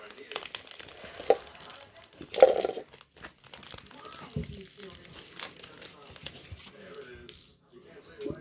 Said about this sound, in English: All right, just peel that off.